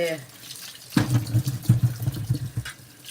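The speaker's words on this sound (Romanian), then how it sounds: "În biuvetă le spăl bine." Tap water running into a sink while vegetables are washed under it, a close, steady splashing and gurgling stream that starts abruptly and fluctuates as the produce is handled.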